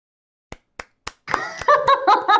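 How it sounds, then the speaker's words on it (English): Three sharp, isolated hand claps, then a burst of overlapping clapping mixed with laughter and voices, close and loud. "All right, so start clapping."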